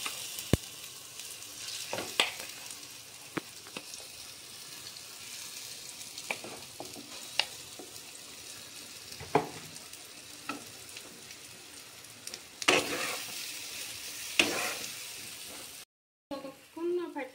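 Ground lentil paste fries in oil in a frying pan while it is stirred and worked. A soft continuous sizzle runs under repeated scraping strokes and clicks, with a brief cutout near the end.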